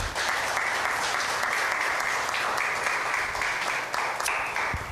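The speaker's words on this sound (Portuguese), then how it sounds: "Salve de palmas para o Senhor Jesus." Congregation applause in a church service, a sustained, dense wash of many hands clapping continuously for five seconds, full and even in level, with a few voices underneath.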